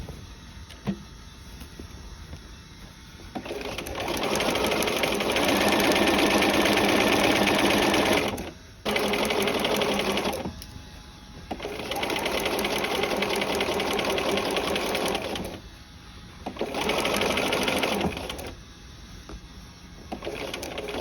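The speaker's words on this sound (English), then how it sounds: "But we're starting, and we will sew" A sewing machine stitches a peplum sleeve cuff seam in three long steady runs of fast, even whirring, each stopping abruptly, with brief quiet pauses between them and no talk.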